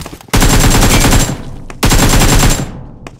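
Automatic gunfire in the PUBG Mobile video game, two loud, close sustained bursts of rapid shots separated by a short pause, with nobody talking.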